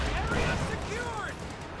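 Battlefield gunfire in a war video game, a dense, continuous rumble of shots and distant blasts filling the whole moment.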